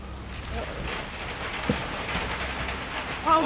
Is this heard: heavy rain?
yes